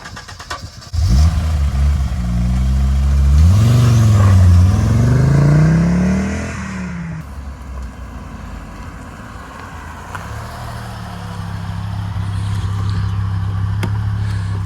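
A 1985 Audi Ur Quattro engine cranks and fires up nearby, surging loudly through a rising rev before settling into a steady, rumbling idle, with no voices over it.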